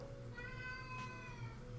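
A real cat gives one drawn-out meow, fairly close but quiet, over a low steady background hum with no talk.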